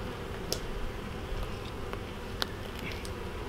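Honey bees hum in a crowded spring colony with a two-year-old queen, a dense, steady buzzing close by, with a few individual bees flitting past in brief louder passes.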